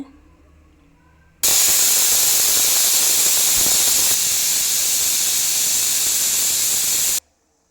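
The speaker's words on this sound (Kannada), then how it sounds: "ಎರಡು ವಿಶಲ್ ಆಗಿದೆ ಫ್ರೆಂಡ್ಸ್ ಗ್ಯಾಸ್ ಸ್ಟವನ್ನು ಆಫ್ ಮಾಡ್ಕೋಬೇಕಾಗುತ್ತೆ" Pressure cooker on a gas stove whistling while beans cook for a palya: a single loud, sustained steam hiss that starts abruptly, holds steady for about six seconds, then cuts off.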